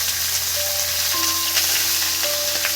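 Chopped, washed cabbage for a vegetarian Kashmiri cabbage ghonto hits the pan with a loud, steady sizzle that keeps up without a break, with faint stirring and a few thin tones over the frying.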